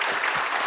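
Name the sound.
round of applause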